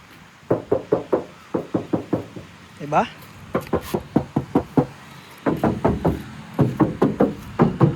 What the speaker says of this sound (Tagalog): Tsaka kakatukin natin para mas makita nyo. Pakinggan nyo.